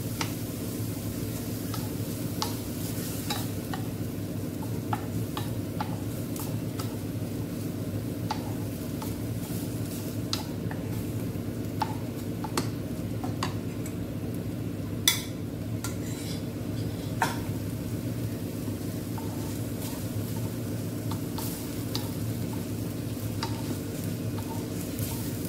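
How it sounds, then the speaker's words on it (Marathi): Cooked rice being stirred into spinach in a pan on the stove, with soft scraping and light clinks of a spoon against the pan over a steady faint sizzle. "शिजवून घेतलेला भातही टाकते याच्यामध्ये। मिक्स करून घेऊया आपण।"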